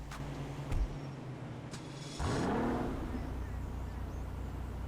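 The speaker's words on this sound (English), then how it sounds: "This vehicle actually has a sweet startup sound." Dewbauchee Rapid GT X sports car in GTA Online cranks and fires up, a short starter burst followed by a rising engine catch that settles into a steady, fairly loud idle hum.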